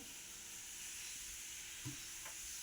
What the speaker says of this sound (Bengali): ওইদিকে মাছ ভাজা চলছে